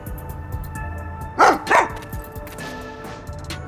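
In the video game Rain Code, a dog gives two quick, sharp barks close by. The barks rise out of a quiet game background of soft music.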